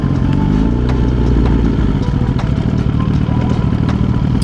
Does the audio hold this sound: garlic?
no